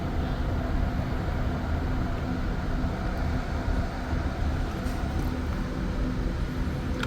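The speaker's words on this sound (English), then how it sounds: "So that REM train's actually on the opposite track, so the one that's there already." An REM light-rail train rolls slowly into Pierrefonds-Roxboro terminal station, giving a steady, continuous low rumble and hum of wheels and motors that holds at an even level throughout, with no talk.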